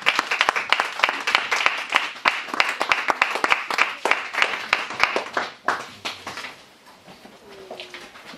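Church congregation applause at a Protestant service in Herentals, lively sustained clapping with scattered acclamations that fades out over the final seconds.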